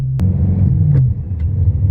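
A supercharged BMW E92 M3 with an ESS 625 kit pulls hard with a deep, loud engine drone that climbs briefly, heard from inside the cabin with no one talking.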